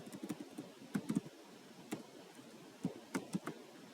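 Someone types code on a computer keyboard, with soft, irregular clusters of keystrokes and short pauses between them.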